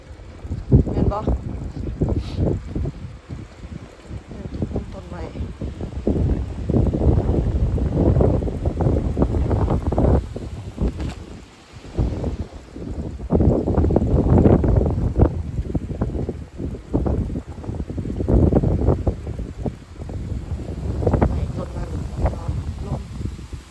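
Heavy wind buffeting the microphone in loud low rumbling gusts, with a person talking throughout.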